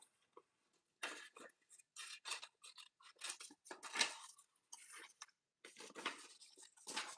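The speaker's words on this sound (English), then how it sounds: "So I think I'm gonna go ahead and cut that part off." Scissors cutting off a piece of paper or plant-like craft material, making close, crisp snips and crunchy bursts in an uneven rhythm with short gaps of silence and no talking.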